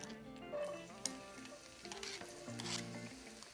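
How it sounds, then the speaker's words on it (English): White parts of green onions sizzle gently in heated oil in a pan, a soft, low frying hiss with light stirring clicks and a faint background tone. "we're gonna slightly saute the onions and tomatoes to release a little bit of flavor"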